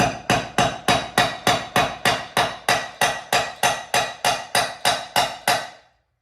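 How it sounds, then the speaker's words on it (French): Hammer tapping on a scooter booster under repair, about nineteen sharp, evenly spaced strikes in a quick steady rhythm, close and loud, then stopping abruptly. "Marteau."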